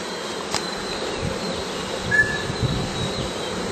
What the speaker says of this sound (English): This bee here.